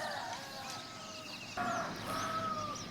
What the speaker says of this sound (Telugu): ఉదయం వేళ పక్షుల కిలకిల రాగాలతో కోడి కూతలతో